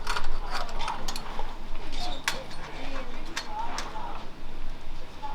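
A tie-down knob is tightened to mount a tripod fluid head onto a camera cart for an ARRI Amira setup, with close, repeated ratcheting clicks and metallic clinks, while a person talks over the work.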